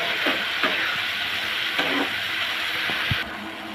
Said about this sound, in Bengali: এখন দিয়ে দেবো সেই সিদ্ধ করা কাঁঠাল বিচি আর পটল। ভালো করে নাড়াচাড়া দিব।